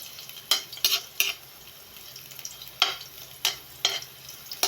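Garlic and onion fry in a pan with a quiet, steady sizzle, punctuated by several sharp scraping and clinking bursts from a utensil stirring against the pan; no talking.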